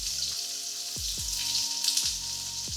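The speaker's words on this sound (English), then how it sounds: "You only want to stir fry your garlic and shallots until they start picking up color." Garlic and shallots stir-fry over high heat for a vegan spicy pad krapow, giving a steady, close sizzle under a few separate tonal sounds.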